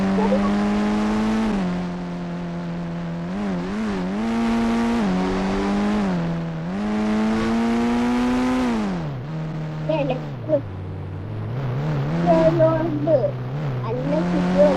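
A police jeep in the Indian Bike video game drives with a steady synthetic engine drone that rises and falls in pitch as it accelerates and slows, ending in choppier revs and brief bumps.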